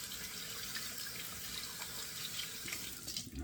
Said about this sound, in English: Rinse it off the fingers pretty quick.